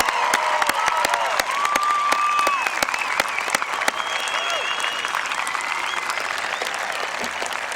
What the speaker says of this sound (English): how about a round of applause for the class of 2002